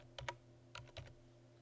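Four quick, quiet keystrokes on a computer keyboard, clicking in two close pairs over a low steady hum.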